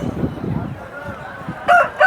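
A ten-month-old patta rooster at Nallapadu poultry market lets out a short, loud crow near the end, after a moment of low murmuring and background noise.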